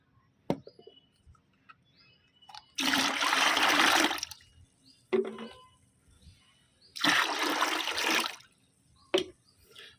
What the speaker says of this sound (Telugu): ఇందులో రెండు లీటర్ల ఆఫ్ వాటర్ నార్మల్ వాటర్ కలుపుతున్నాను